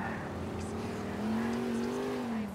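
Car engine in Grand Theft Auto IV droning steadily at mid volume, pitch rising slightly as the vehicle accelerates, with no voices over it.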